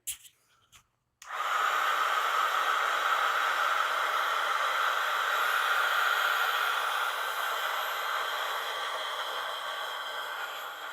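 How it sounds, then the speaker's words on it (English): Heat tool blowing to dry acrylic paint, a steady loud close hiss and whir that starts abruptly after a few faint knocks and holds to the end. "I'm going to take my little heat tool here and dry this real quick"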